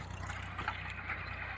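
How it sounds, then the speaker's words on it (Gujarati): A fertilizer-spreading tractor runs in a farm field, its engine a faint, steady low chugging rhythm heard from some distance with a soft airy wash and no voices. "આજે આપણે આવ્યું છે ખાતર ઉડાડવાનું ટ્રેક્ટર"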